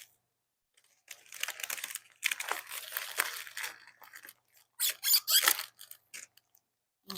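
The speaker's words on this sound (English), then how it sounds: "you take out the packaging." Plastic packaging crinkles and rustles as it is pulled off a flower bouquet, a close series of crisp bursts that come and go between quiet pauses.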